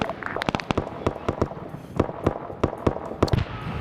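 Airstrike explosions in the Arma 3 SOG Prairie Fire game land in a rapid, uneven string of sharp cracking bangs, loud and close, with dense overlapping bursts.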